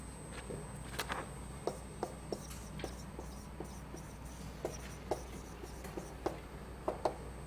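Marker or chalk writing on a lecture-room board, a string of soft scratches and taps at an irregular pace, quiet and somewhat distant over steady room hum.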